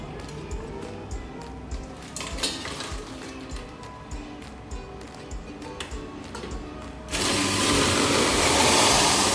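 Ice being shaved for a green tea cafe-style drink: rhythmic ticking, scraping clicks from the hand-cranked shaver, then a sudden loud, steady whirring grind for the final few seconds.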